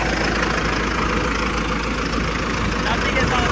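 A tractor with an upgraded inline fuel pump in place of its CRDi system idles steadily after starting, a loud, continuous low diesel rumble close to the microphone for the whole stretch.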